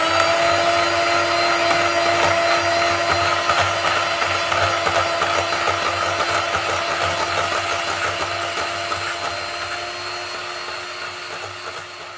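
An electric mixer whips cream with a spoonful of sugar, a steady high motor whine with rattling beaters that runs unbroken and slowly eases off toward the end, with no talk.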